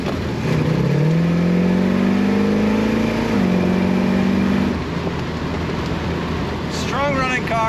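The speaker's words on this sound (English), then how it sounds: "Strong running car, nice smooth V8 in this Ford. Great acceleration and throttle response." A 1930 Ford Model A street rod roadster with a V8 accelerates hard, its engine drone rising steadily in pitch and then easing off, close and loud, with someone talking over the engine.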